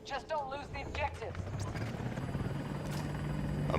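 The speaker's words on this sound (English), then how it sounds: "I'm gonna see if I can take out this helicopter." A helicopter in the video game Battlefield 2042: a voice talks briefly, then a fluttering rotor chop takes over and grows steadily louder and closer.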